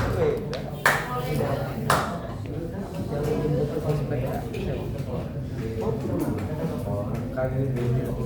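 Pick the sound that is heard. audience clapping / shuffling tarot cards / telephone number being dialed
audience clapping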